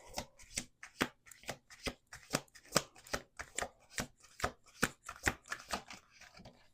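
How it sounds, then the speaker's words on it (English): A deck of cards is shuffled by hand again and again, giving quick, crisp riffles and taps in a steady rhythm, close and fairly quiet, with no talking. "Okay, one more shuffle."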